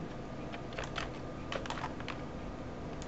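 Quiet, close computer keyboard typing, a few scattered light keystroke clicks in small bursts over a steady background hiss.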